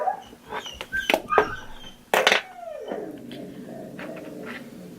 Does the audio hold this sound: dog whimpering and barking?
yes